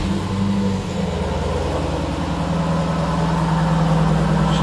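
A 2018 Mopar '18 Edition Dodge Durango SRT with a 6.4-liter Hemi V8 and dual exhaust idles steadily right after starting, a loud, close, continuous low rumble with no talking.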